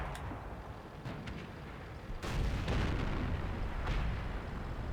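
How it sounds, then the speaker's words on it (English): A Leopard 1 tank's cannon firing in World of Tanks, a heavy boom midway that rolls into a sustained low rumble over constant game background noise. "Take a shot at the side of his turret"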